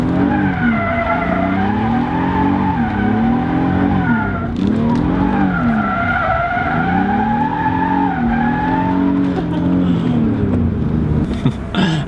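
Car driving on a new wheel, tire and spacer setup, with steady tire and road roar and a rising-and-falling engine note through repeated shifts, loud and close throughout.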